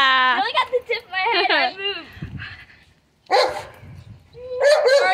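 A puppy barks and yips in high, excited bursts during a balloon-popping game, loud and close, with people talking over and between the barks.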